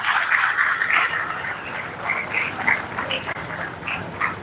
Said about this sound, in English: So give a big round of applause to them.